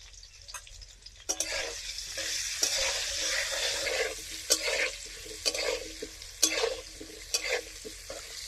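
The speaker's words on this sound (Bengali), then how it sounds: "ভেজে নেবো খিচুড়ির জন্য আলু" Potatoes frying in oil with turmeric in a kadhai for vegetable moong dal khichdi, a steady close sizzle broken by repeated sharp scrapes and clinks of a stirring spatula, with no voices.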